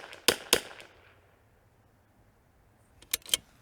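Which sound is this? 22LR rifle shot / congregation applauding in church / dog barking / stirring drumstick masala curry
22LR rifle shot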